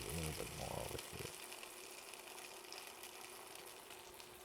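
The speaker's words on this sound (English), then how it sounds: "And while the next one is frying up," Finnish crepe batter (lätyt) fries in a pan with a soft, steady sizzle, quiet and close, after a moment of talking at the start.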